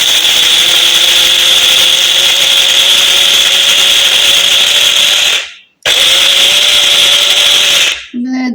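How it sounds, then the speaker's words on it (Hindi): Electric grinder whirring loud and steady as it pulverises whole spices, black peppercorns and fennel seeds, with a brief pause near the end before a short restart and a different low hum. "मैंने ग्राइंडर में ये होल स्पाइसेस और ब्लैक पेपर कॉर्न और फेनल सीड्स डाल दिए और अब मैं इसको पीसने लगी हूँ"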